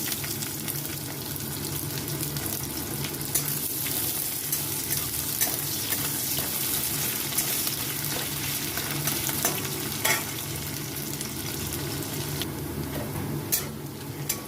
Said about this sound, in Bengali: দিচ্ছি তেজপাতা দিয়ে দিচ্ছি কুচানো পেঁয়াজ